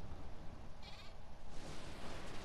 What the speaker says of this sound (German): Guck mal, das ist ja ein Schaf, ne?